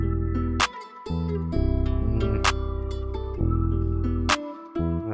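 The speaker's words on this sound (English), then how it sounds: "Now this angel clap is pretty much my favorite." An angel clap drum sample snaps in a standard pattern over a looping, wavy guitar-based beat made in FL Studio 21, with sharp claps landing about every two seconds above the sustained melody.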